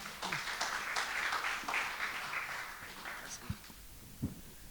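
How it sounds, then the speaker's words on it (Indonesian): Workshop audience applauding speaker Ibu Priske, the clapping dense at first and thinning out toward the end, with a couple of louder thumps. "sekali lagi berikan tepuk tangan untuk Ibu Priske."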